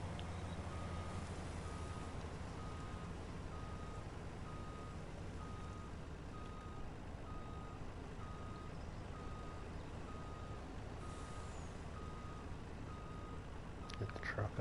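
A truck in Farming Simulator 19 gives a steady series of evenly spaced reversing beeps over a constant engine rumble, with no one speaking.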